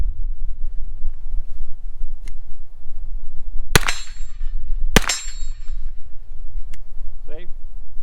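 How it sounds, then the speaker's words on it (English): A Bilson Arms 9mm forward-charging pistol fires two sharp, loud shots about a second apart outdoors on a range, over steady wind noise, with faint metallic clinks afterward. "So when you're ready to fire, go ahead and let off 2 rounds."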